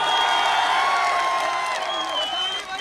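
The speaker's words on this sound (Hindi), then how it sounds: "जोरदार ताली से करिए भाई।" A large crowd at a Bihar political rally applauds and cheers loudly, a dense continuous wash of clapping with whoops over it.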